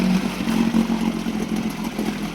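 A boat's outboard motor idles steadily after being dialed in, a continuous mid-pitched engine drone with a faint clattering edge, close and fairly loud, with no voices over it.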